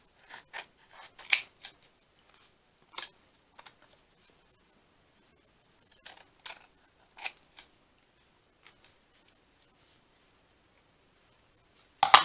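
Scissors snip through a postcard in short, crisp bursts of cutting with quiet pauses between them, close and fairly soft, ending in a louder final cut.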